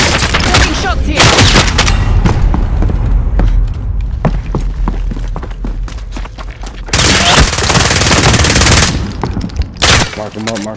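Heavy gunfire in Call of Duty: Modern Warfare: loud close bursts of automatic fire and sharp shots in rapid clusters, with pauses and renewed volleys, players talking briefly between them.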